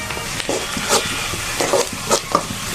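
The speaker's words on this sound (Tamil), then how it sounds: "வெங்காயம் வதங்கின்னு இருக்குது" Onions sizzle in a hot pan while a spoon stirs and scrapes, with soft crackles and clinks up close.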